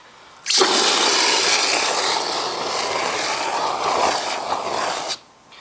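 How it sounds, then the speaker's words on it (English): A steady rushing, churning wash of water and foam as Chemical Guys Hydro Suds foams in a water bucket, starting abruptly, holding about five seconds, then cutting off. "let's see how it foams up real quick"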